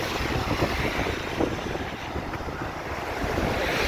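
Strong wind and rain lash a seafront promenade at Blackpool during Storm Debi, a steady, loud broadband roar with gusting wind buffeting the microphone throughout, no talk.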